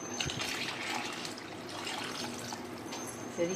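Water poured into a pot of ration rice for chicken biryani, a steady trickling, splashing flow heard up close and fairly soft throughout.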